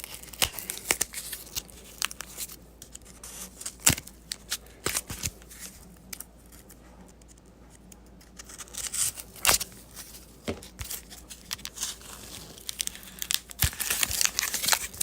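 Packing tape being torn and peeled off purchase packages, with crinkling, ripping bursts in irregular close bursts and a quieter pause midway.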